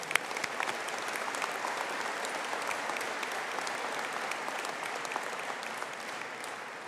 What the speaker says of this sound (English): Can I invite everybody to give them a round of applause